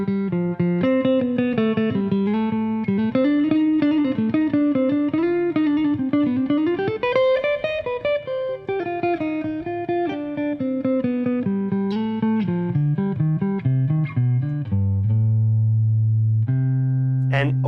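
Jazz guitar playing a melodic minor scale, a continuous run of clear sustained notes rising and falling for several seconds, ending on held lower tones, loud and up front.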